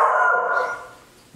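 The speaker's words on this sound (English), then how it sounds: "You're barking at air." A single drawn-out dog bark or yelp, close and loud, trailing off into quiet.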